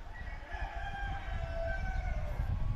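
A rooster crows in a drawn-out call inside a free-range farm coop in Fanling, Hong Kong, housing nearly 2000 chickens, with low clucks and coop noise underneath.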